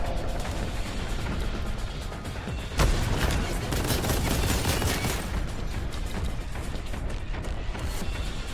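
Continuous battle din of gunfire, blasts and crashes in the Warhammer 40K Boltgun shooter on the Forges of Corruption level, loud and dense throughout with a sharp impact near the three-second mark.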